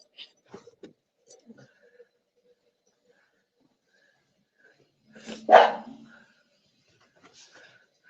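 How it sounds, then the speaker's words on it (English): A single loud dog bark near the middle, with a few faint clicks and soft noises scattered before and after in an otherwise quiet room. "You don't even know what you're barking at."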